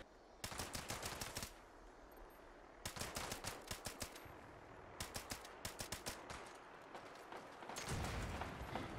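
Repeated gunshots aimed at a cargo bot in the game Fallout 76, fired in several fast bursts of sharp cracks with short pauses between them, followed by a low rumble near the end; no one speaks.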